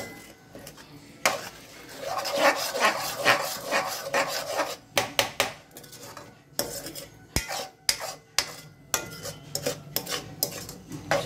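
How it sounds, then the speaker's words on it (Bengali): Chhana being stirred into kheer in a pan, with vigorous, irregular scraping and clattering of a spoon against metal in quick bursts, close and fairly loud, with brief pauses between strokes. "এটা দিয়ে ভালো করে করে নেড়ে এটাকে শুকনো শুকনো করতে হবে"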